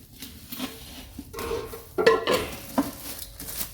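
Pots from a UCC Life cookware set, including a shallow 28-centimetre pot, handled while being unpacked, giving close clunks, knocks and scraping clatters of metal and packaging in irregular bursts with no talking.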